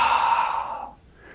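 A long, slow breath is pushed out through the mouth during qigong reverse breathing, a soft airy whoosh close by that fades away, with no talking.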